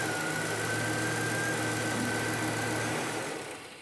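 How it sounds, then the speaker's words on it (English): A truck engine runs steadily at idle during a fuel pressure check in a garage, a close, even rumble with a faint whine on top that eases off near the end, no talking. "So if we crank up the truck,"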